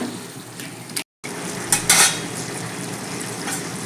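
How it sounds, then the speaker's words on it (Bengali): Fried rohu fish pieces are stirred into simmering gravy with bitter gourd in a pan, with close scraping and a few clattering knocks over a steady low hiss. "এবার আমি ভাজা মাছগুলো দিয়ে দিচ্ছি ভালো করে ঝোলের সঙ্গে মাছগুলোকে মিশিয়ে দিয়ে একটু ঢেকে দেবো"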